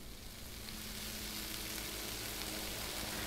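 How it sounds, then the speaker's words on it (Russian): Salmon frying in a pan in the kitchen game Cooking Simulator, a steady, dense sizzle that holds at an even level throughout with no voices over it. "Да, жарится лосось"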